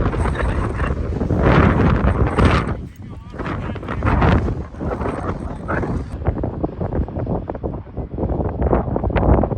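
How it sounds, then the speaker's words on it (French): Strong wind buffets and roars across the microphone throughout, with a person's voice partly heard beneath it, outdoors at an abandoned military base in the USA. "Il y a un vent de ouf."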